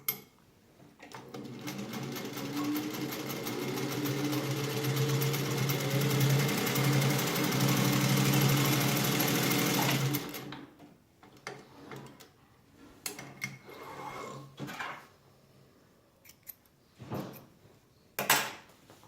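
A Singer 201-2 sewing machine in working condition runs for about ten seconds with a smooth, close whirring hum, then stops, followed by scattered clicks and knocks of handling.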